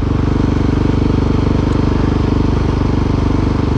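A KTM 701 Supermoto single-cylinder motorcycle engine idling loud and close, a steady rapid thumping pulse with no change in pace.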